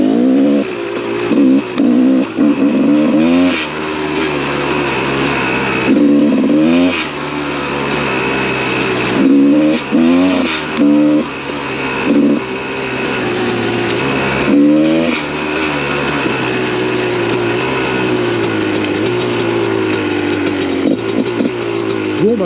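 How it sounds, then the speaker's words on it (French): A Gas Gas 300 dirt motorcycle, left unridden for six months, idles loudly up close while warming up, its engine rising and falling in repeated throttle blips with no talking. "Je prends vraiment le temps de laisser chauffer la bécane."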